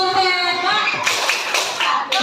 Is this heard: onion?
no